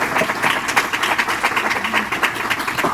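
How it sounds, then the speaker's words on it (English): An audience at a real estate talk breaks into steady applause, a dense wash of clapping that holds at an even level throughout, with a faint voice briefly present beneath it. "Let's give her a round of applause."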